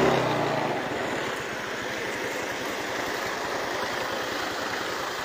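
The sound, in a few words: enforcement vehicle engine idling in flood water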